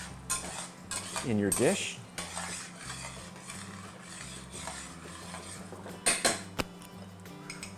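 A spoon stirs egg white into lobster sauce with shrimp in a pan, drawing it into strings. Close metallic clinks and scrapes come in irregular bursts against the pan, with a brief spoken phrase.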